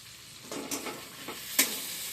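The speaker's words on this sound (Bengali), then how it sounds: "এবার এই মশলাটা একটুখানি কষা হবে" Spice paste for paneer posto sautéing in a pan, a quiet sizzle broken by several scraping stirs from a spatula, close and fairly soft.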